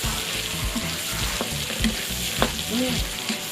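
Mung beans stir-fried in a pan for a Vietnamese-style sweet dumpling dessert, with a steady close sizzle, scraping stirring strokes and a few soft clinks of the utensil, and no talking.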